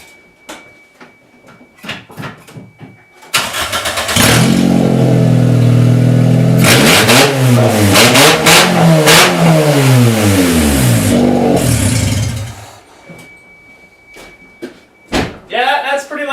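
A car fitted with a cold air intake and open exhaust revs hard up close, a loud sustained roar rising and falling for several seconds, framed by door clunks, shuffling and people talking before and after.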